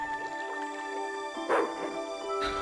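Dog in the Broken Sword: The Smoking Mirror video game giving a few yipping barks and whimpers over a tonal music bed, fairly close and moderately loud.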